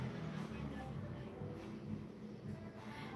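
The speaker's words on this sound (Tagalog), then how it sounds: "Ingay naman ang motor" A loud motorcycle with a noisy exhaust rumbles steadily past on a street, its low engine drone filling the whole stretch without a break.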